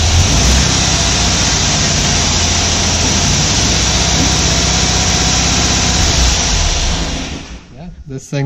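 A Volkswagen with Autostick transmission sits on a hoist in gear, wheels spinning just off the ground, its engine running with a loud steady drone that holds for several seconds before dropping off near the end.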